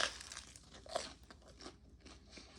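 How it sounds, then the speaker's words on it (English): Teeth bite into the crisp, crackly crust of freshly baked focaccia bread, a series of close, dry crunches and crackles with no talking. "I love that crispy outside that this bread has. Listen how crunchy."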